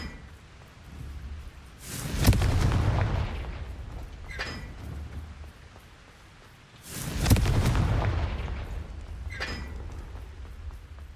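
Two heavy booming blasts of the Confringo fire spell erupt in Hogwarts Legacy, each a sudden loud burst trailing off into a rumbling decay, spaced about five seconds apart with no voices.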